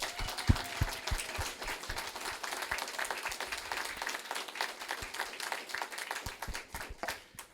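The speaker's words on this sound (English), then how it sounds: "if I can have a final applause for our MC" An audience at a community education event for a county veterans' nursing home claps for the MC, a steady spread of applause with scattered sharper claps, moderately loud and free of talk.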